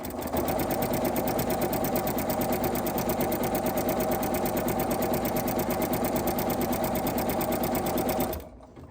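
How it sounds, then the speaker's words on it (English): Sewing machine stitching a straight seam on fabric for an oven mitt, a steady loud mechanical whir that runs continuously for about eight seconds and then stops abruptly. "I am going to sew straight down this line"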